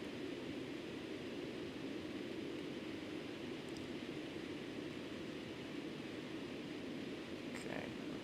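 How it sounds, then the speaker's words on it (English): Concorde afterburner roaring in the X-Plane 12 flight simulator, a steady, dense broadband rumble that holds unchanged throughout without pause. "I'm just going to give it a little bit of afterburner, just to push us back up."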